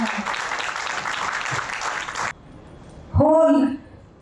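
Audience applause at an inaugural ceremony of a medical congress in Jhansi fills the first two seconds as dense, steady clapping, then cuts off abruptly; a voice speaks briefly afterward.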